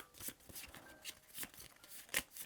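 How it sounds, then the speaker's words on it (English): A deck of cards is shuffled by hand during a World War I strategy board game. The riffling and flicking come in quick bursts across a couple of seconds, quiet and close. "So we'll shuffle that deck up and draw the card real quick."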